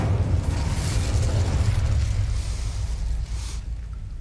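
Incendio fire spell cast in Hogwarts Legacy, a loud, sustained whooshing roar of flame with a heavy low rumble that runs throughout and slowly eases toward the end, with no talk.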